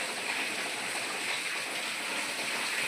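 Flood water pours through a broken, damaged house roof into the room below, a steady, dense rushing spray that stays loud and unbroken throughout, with no voices.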